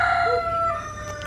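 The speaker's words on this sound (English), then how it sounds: "That's chicken." A rooster crows on an island in a Jamaica-like rural setting, its strained call held for about a second at moderate distance, alone with no talk over it.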